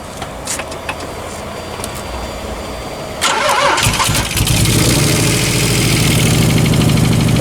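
A Nissan 300ZX engine cranks with a few clicks and whirs, then catches and settles into a loud, close, steady idle.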